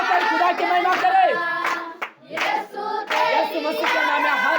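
Congregation clapping hands during Christian worship, rhythmic clapping heard under a loud voice chanting and praising, with short pauses between phrases.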